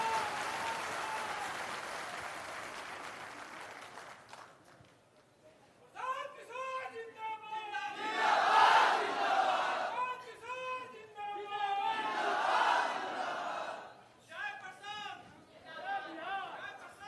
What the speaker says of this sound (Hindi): तालियों की गड़गड़ाहट के साथ स्वागत कीजिए प्रशांत किशोर जी का।